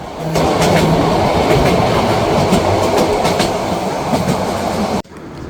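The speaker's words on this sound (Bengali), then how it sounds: "এরই মধ্যে ট্রেনটি প্রবেশ করছে কক্সবাজার রেলওয়ে স্টেশনে" The Parjatak Express passenger train runs on rails from Dhaka toward Cox's Bazar station, giving a loud, steady rumble with rhythmic clickety-clack of wheels over rail joints that cuts off abruptly near the end.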